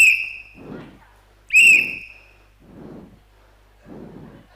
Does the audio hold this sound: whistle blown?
yes